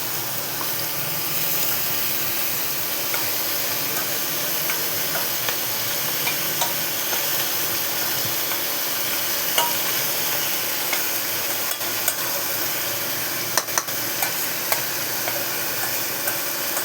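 Marinated meat with onion, garlic, ginger, green chilli and spice paste fries in a pan, a continuous loud sizzle with faint stirring scrapes and a few sharp clicks, no talking.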